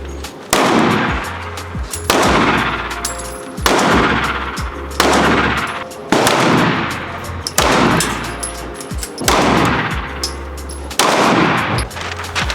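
Loud gunfire at a shooting range, a steady series of about eight heavy booming shots spaced roughly every one and a half seconds, each with a long reverberating tail, close to the listener.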